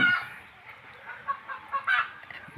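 Desi hens clucking in short, irregular bursts, moderately close, with a few louder calls near the end and no talking.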